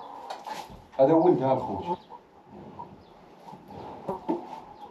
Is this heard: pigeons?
yes